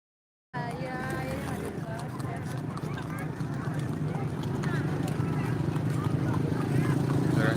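Hooves clip-clopping from many horses exercising at a horse racing track during the Memayu Buyut Trusmi festival in Cirebon, a steady rhythmic clatter under crowd bustle and nearby talking.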